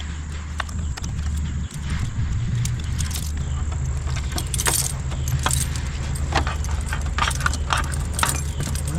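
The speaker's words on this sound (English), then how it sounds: "Let's try a couple more keys here." A ring of keys jingles and clinks repeatedly as they are tried one after another in the ignition of an old, weathered John Deere tractor left in weeds, close and bright, with a steady low hum beneath.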